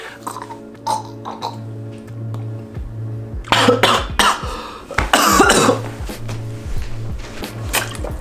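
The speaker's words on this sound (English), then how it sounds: "I just choked on my cough drop" A person coughs harshly several times in close succession, sputtering and gasping while choking on a cough drop, with a rhythmic electronic hum underneath.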